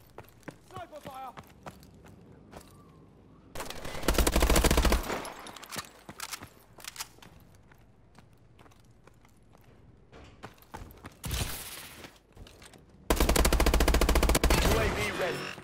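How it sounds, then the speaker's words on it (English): Bursts of gunfire in an online Call of Duty: Advanced Warfare team deathmatch on Xbox One: two loud rapid volleys stand out, with sharper single shots and game sounds between them under speech. "Sniper fire."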